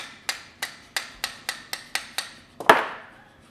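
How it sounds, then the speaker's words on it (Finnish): A hammer strikes an engine part during assembly of a forged BMW M50/M52 bottom end, ringing metallic blows repeated about ten times at a steady pace, ending with a heavier, louder whack. "Lyö vasaralla."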